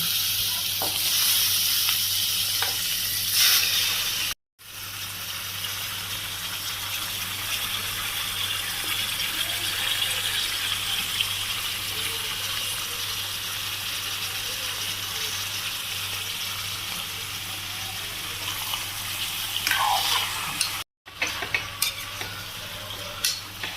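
Chicken pieces frying in a pan for a Tamil chicken varuval, stirred steadily with a constant sizzle and scraping throughout, fairly close and continuous with two brief dropouts.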